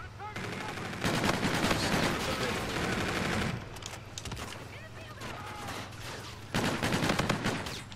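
A teammate fires continuously in Call of Duty: Infinite Warfare, dense automatic gunfire in long loud bursts with brief lulls, then resuming hard near the end.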